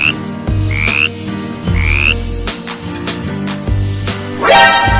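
A frog croaks repeatedly in a steady, pulsing rhythm, loud and close, with bright chirping calls overlaid and a rising whistle-like sound at the end.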